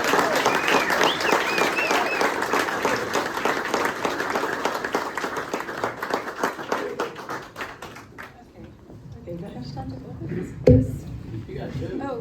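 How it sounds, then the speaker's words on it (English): Loud, dense clapping from a crowd at a speech event fills the first eight seconds, then fades to scattered claps and a single sharp knock. "So if everyone please give a very warm round of applause for my mom, Kelly."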